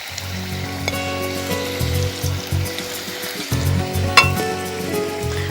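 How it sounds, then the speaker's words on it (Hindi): Koftas fried in oil give a steady sizzle and bubble beneath low humming tones and a few clicks, with one sharp clink near the middle; nobody speaks. "मेरे कुछ कोफ्ते तैयार हो गए हैं, तो मैं इन्हें फ्राई करने के लिए डाल रही हूँ।"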